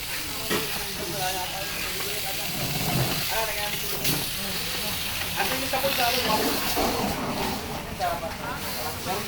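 Water rushes steadily through a clogged drain pipe being flushed during a barangay street clean-up drive, with a loud, continuous hiss and gurgle while people talk over it.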